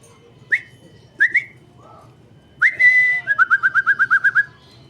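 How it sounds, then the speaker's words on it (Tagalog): A pet bird trades calls with a person's whistling: two short rising whistled phrases, a longer steady whistle, then a quick run of about ten even, chirpy notes, all close and clear with no talk. "Sumasagot man siya pag sipol."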